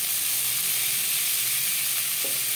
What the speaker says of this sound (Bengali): সবার প্রথমে আমি আলু ভেজে নেব।